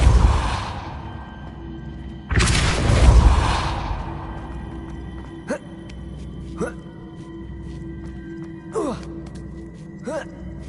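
The Depulso spell is cast in the video game Hogwarts Legacy, giving a sudden, forceful rushing whoosh with a low thump that fades over about a second. Several short, quieter swishing magical chirps follow at intervals.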